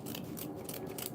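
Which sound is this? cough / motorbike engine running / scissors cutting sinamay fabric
scissors cutting sinamay fabric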